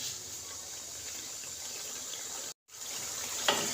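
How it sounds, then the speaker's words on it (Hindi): Water pours into frying masala for fish curry, a steady hissing stream that breaks off briefly, then resumes with a small clink near the end. "इसके अंदर थोड़ा सा पानी डाल दें"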